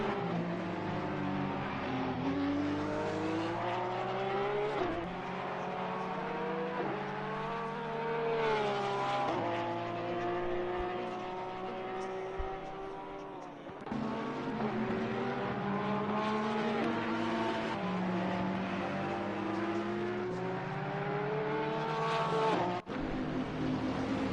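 GT3 race cars, including a Porsche, screaming past at Zolder circuit during a sprint race, with loud, continuous engine roar that rises and falls through repeated gear changes for the whole stretch.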